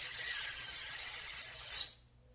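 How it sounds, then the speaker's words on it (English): A person demonstrates a slow, controlled exhale over a count of three for squat and deadlift bracing, producing a steady close breathy hiss for nearly two seconds that then stops cleanly into silence. "See if you can exhale for a count of 3."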